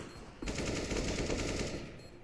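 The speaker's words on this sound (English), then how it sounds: "Lots of gunfire happening." Rapid automatic gunfire in a Counter-Strike match, a dense, loud burst of continuous shots starting abruptly and rattling for nearly two seconds before tapering off.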